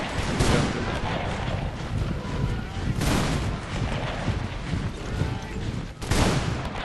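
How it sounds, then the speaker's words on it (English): Rifle volleys from a firing line crack and boom in a video game battle recreating the defence of Rorke's Drift in the Anglo-Zulu War, heavy overlapping shots with sharp volleys near three and six seconds and a voice talking over them. "This fire line here is very effective at shooting Zulus."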